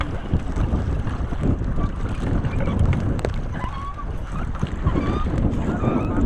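Strong wind buffets the microphone aboard a boat at sea in big waves, with a constant loud roar and rumble of wind and water throughout and faint voices in the background.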